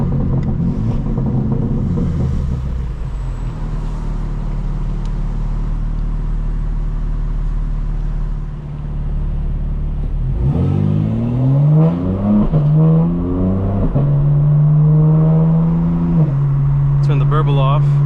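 A 2025 BMW M4 Competition xDrive with exhaust valves open idles with a deep, loud rumble, then accelerates in several rising revving pulls through gears, with a driver talking over it.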